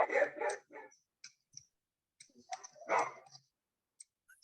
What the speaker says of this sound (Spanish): Ya, ok, disculpen, había un sonido de un perrito.